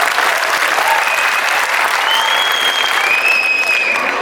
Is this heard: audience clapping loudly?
yes